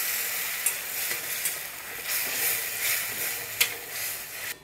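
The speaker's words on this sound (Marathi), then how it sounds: "मिक्स करून घेऊ." Spinach puree is stirred in a pan on the stove, a soft sizzling hiss broken by a few sharp scrapes and taps of the spoon against the pan, close and alone.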